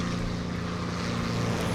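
A Hurricane fighter plane's propeller engine drones steadily in the War Thunder combat flight game, a loud, continuous low hum with no other sounds breaking through.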